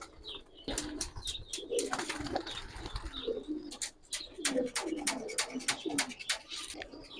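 Giribaz tumbler pigeons released outdoors for flying, with a flurry of wingbeats and soft cooing and chirps at moderate distance, a faint voice murmuring underneath.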